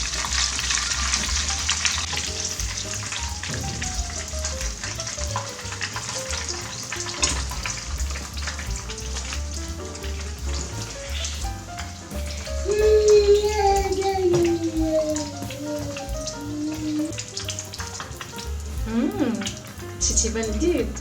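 Breaded whiting fish frying in hot oil, a steady close sizzle with bubbling and crackling that runs throughout, punctuated by occasional stirring and utensil clinks.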